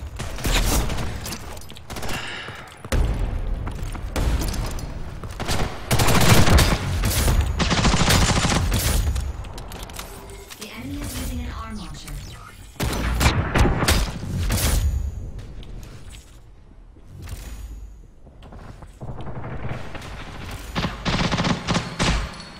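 Dense gunfire in a tactical shooter game, with rapid booming blasts layered into long, loud volleys, brief pauses between bursts and a thinner spell of shots near the end.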